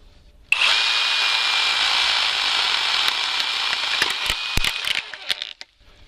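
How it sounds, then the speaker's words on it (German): A large branch on an old fruit tree is being cut, giving a steady, loud, continuous rasping cut for about four and a half seconds that ends abruptly, with no talk over it. "Wenn man einfach nur von oben nach unten sägt, hat man hier außen ein extrem hohes Gewicht am Ast."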